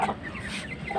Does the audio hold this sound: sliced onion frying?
no